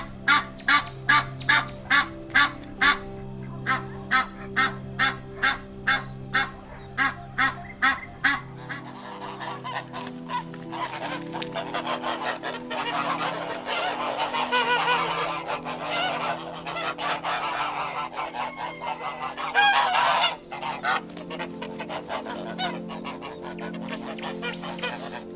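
A goose honks loudly and close in a rapid regular series of calls, then continues in a denser, more ragged burst of honking that swells and fades.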